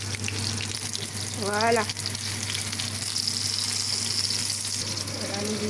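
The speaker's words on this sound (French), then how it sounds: "Et on laisse dorer avec les rondelles d'oignons." Onion rings and vegetables fry in oil for shrimp and vegetable tempura, a continuous close sizzle with a short spoken word partway through.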